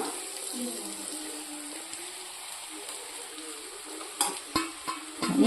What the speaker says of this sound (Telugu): ఇప్పుడు మురుమురాలు యాడ్ చేస్తున్నాను